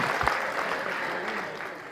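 Audience applause at a comedy show, a brief, dense wash of many hands clapping, moderately loud and continuous throughout.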